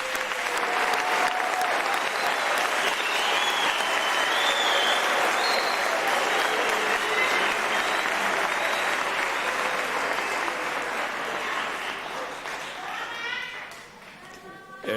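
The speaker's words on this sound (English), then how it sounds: "we give the graduates another round of applause" Sustained, dense applause from a large crowd honouring graduates at an evening university graduation ceremony, loud and even for most of its length before thinning toward the end, with some voices mixed in.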